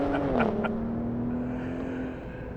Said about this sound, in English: And then we hold full throttle, wait for the RPM to come up, and we take off.